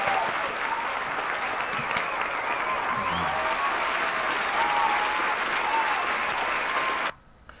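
A group claps steadily for about seven seconds, a dense even patter of hands that stops abruptly, with faint voices mixed in under the applause.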